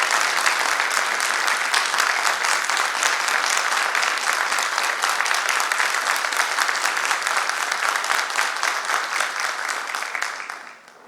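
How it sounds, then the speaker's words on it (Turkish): A large concert audience applauds the conductor loudly and continuously, dense clapping that holds steady before fading out at the very end. "alkışla Şef Ferdi Cansız için lütfen."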